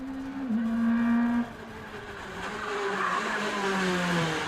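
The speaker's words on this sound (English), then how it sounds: "First they used the handbrake in the corner." A rally car on a closed stage of the Argyll Rally in Dunoon slides through a corner on the handbrake, with a sustained engine note and tyre scrub shifting in pitch, then easing off as the car powers away.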